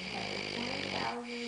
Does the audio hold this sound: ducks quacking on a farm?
no